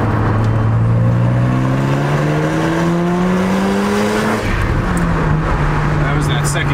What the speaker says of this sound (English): That was that second turbo coming in.